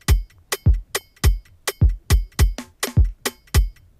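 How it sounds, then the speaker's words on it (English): An Afrobeat drum pattern plays its snare on crisp, regular hits over booming low kicks, loud and close, with no voices. "That's when I added the snare, and this is what it sounds like here."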